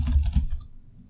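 Rapid clattering keystrokes on a computer keyboard during a live coding session, close and fairly loud, a quick burst of clicks that trails off into quiet.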